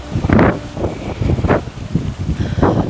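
Gusty outdoor wind buffeting the microphone under a blue sky in Spain, loud rumbling bursts rising and falling in waves with faint rustling between them, no speech.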